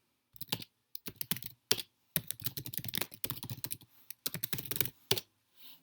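Someone types on a computer keyboard in quick bursts of crisp, close key clicks separated by short pauses, with no talking.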